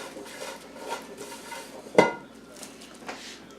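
Fudge meltaway mixture pressed into an ungreased baking pan, a quiet kitchen scene with soft scraping and one sharp clink of utensil against the pan near the middle.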